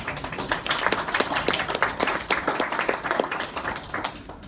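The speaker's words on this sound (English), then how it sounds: "that's something we should give her a round of applause right now" An audience gives a round of applause, many hands clapping briskly and densely for about four seconds before thinning out at the end.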